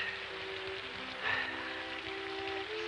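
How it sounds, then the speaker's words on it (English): Steady rain patters on a surface, a soft continuous hiss with a faint tonal hum running underneath. "It's the rain."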